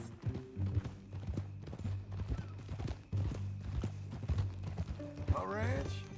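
Horse hooves clip-clop at a steady walking rhythm in the western game Red Dead Redemption 2, mixed with tonal game sounds and voices.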